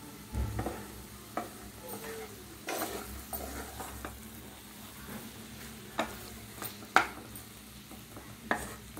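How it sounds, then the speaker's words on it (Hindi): Sabudana pulao being mixed in a pan, with a scraping stir and a low sizzle throughout, broken by a few sharp utensil clinks against the pan. "तो इसको अच्छा से मैं मिक्स करूँगी।"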